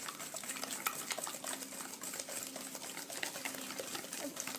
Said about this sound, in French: dans mon saladier j'ai 4 œufs, 4 œufs entiers avec 230 g de sucre, donc que je vais mélanger